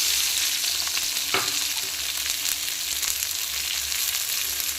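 Chopped onion hits hot oil with nigella seeds and bay leaf for a fish curry, a bright continuous sizzle with a sharp scrape of stirring partway through, close up and without any voices.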